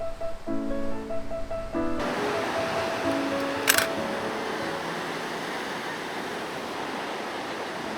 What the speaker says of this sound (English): I'm going to get closer to the ocean and try to get a shot where I can feel the